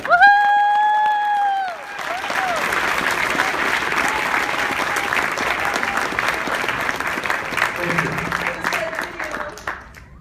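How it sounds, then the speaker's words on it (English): A crowd breaks into loud, sustained applause that carries on steadily for several seconds, following a brief spoken voice at the start. "Please give him a round of applause, Mr. John Wang."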